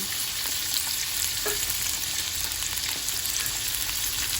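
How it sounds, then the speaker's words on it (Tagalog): Shrimp paste (bagoong alamang) with garlic is sautéed in a pan, giving a steady, close crackling sizzle with occasional stirring scrapes and no talk. "magigisa tayo ng bagoong"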